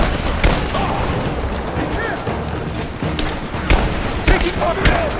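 Rapid gunfire crackles through a firefight in Rise of the Tomb Raider, with loud individual shots punching through at irregular intervals over a dense, noisy battle din.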